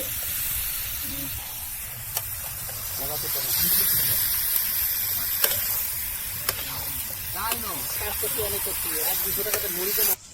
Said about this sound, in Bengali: মশলা কষানো হয়ে গেছে এখন দিয়ে দিচ্ছি এক শুয়ারের মাংস ভালো করে কষাও